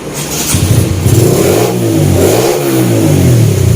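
A Sonic 125 motorcycle engine, recently given a major service, revs strongly and repeatedly, swelling and falling in pitch over a steady running idle, close and loud with no talking.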